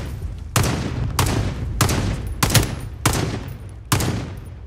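Rapid bursts of gunfire from the video game Warzone, six sharp loud shots spaced roughly half a second apart over a low rumbling background.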